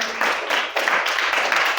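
Students in a classroom clap together for a classmate, a short, steady burst of broadband patter filling the whole moment without pause.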